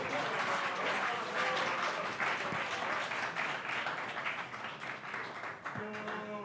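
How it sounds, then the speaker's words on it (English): A crowd at a hackathon event keeps up sustained applause for several seconds, dense clapping with scattered voices and cheers blended in and a brief voice cutting through near the end. "keep the applause going until he gets up here"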